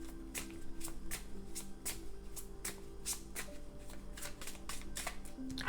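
A deck of tarot cards is shuffled by hand in a steady run of crisp riffling bursts, close and clear, with no talking.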